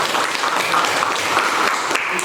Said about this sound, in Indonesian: Kita kasih tepuk tangan untuk Anissa dan Desta.